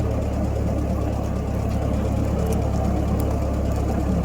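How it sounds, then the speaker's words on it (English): An old tractor engine runs at a steady idle, a constant low mechanical drone with an even putter that holds unchanged throughout, with no voices. "Good old tractor."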